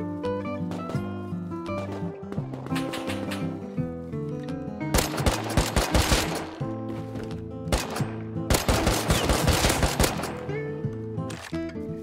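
Gunfire in a survival video game crackles in several loud bursts of rapid automatic shots, spread over the span with quieter gaps and a steady background hum between volleys.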